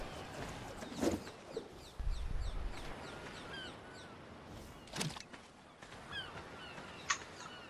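Several short squawks and cluck-like calls from a single bird, loud and close at first, then sharper cries later, over open outdoor background noise.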